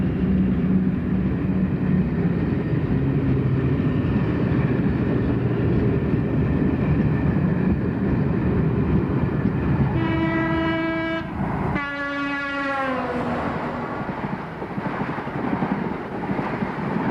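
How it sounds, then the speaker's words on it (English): Deltic diesel locomotive hauling a northbound express out of Stoke Tunnel, a loud steady rumble of engine and wagons close by, broken by two long two-tone horn blasts, with wind buffeting the microphone. "Another of the Deltics emerges from Stoke Tunnel with a northbound express"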